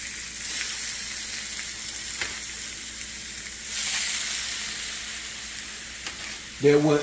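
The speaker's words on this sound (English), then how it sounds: "That sound, that sizzle you hear, that will make you get the pretty brown color on your meat." Steady, loud sizzling of short ribs searing in a hot pan, a continuous crackling hiss with a brief louder burst near the end.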